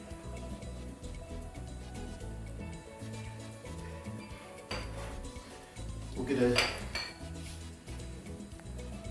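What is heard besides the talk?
pot and frying pan handled on stove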